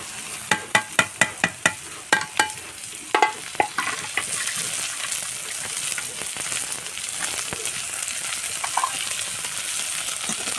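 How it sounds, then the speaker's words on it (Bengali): Carrot, beans, tomato and radish fry in a pan, opening with a run of sharp spoon-on-pan scrapes and taps as they are stirred, then settling into a steady, close sizzle with only occasional clinks. "ভালো করে সবজিগুলো ভাজে নেব, যাতে সিদ্ধ হয়ে যায়।"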